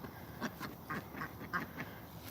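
Ducks quacking while being fed bread, a run of fairly faint, repeated quacks in an uneven rhythm over low outdoor background noise.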